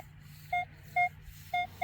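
A metal detector sweeping a park and baseball field gives three short, clear beep tones about half a second apart, with faint background hiss between them.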